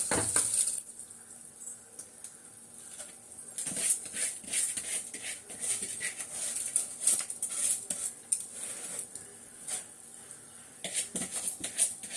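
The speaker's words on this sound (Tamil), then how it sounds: "இப்போ இந்த ஸ்டேஜுக்கு நம்ம அரிசியை போட்டுருவோம்" Washed rice tipped into a pot of boiling water for prawn biryani, heard as clattering and scraping against the metal pot with a few sharp clinks, close and fairly loud over a steady bubbling hiss.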